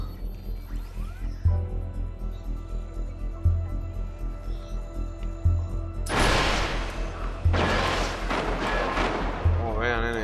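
Repeating low booms thud at a steady beat, then loud crackling blasts burst in the second half, explosions and fireworks in Watch Dogs, with brief voice traces.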